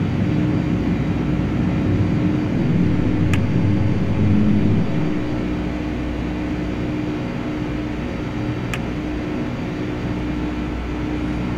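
Boeing 757-200 airborne in Flight Simulator X, a loud steady jet engine roar with a broad rumbling drone that holds constant throughout and has no talk over it.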